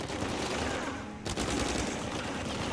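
Rapid automatic gunfire in Uncharted 4, a dense continuous burst of close, loud shots with a brief gap midway before the firing resumes.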